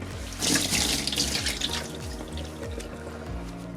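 Tap water runs steadily into a sink, a close, even splashing rush with a slightly hollow ring.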